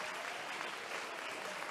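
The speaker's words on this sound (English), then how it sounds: "give it a little round of applause" Steady applause from an audience fills the room without a break, dense clapping at moderate level and no voices on top.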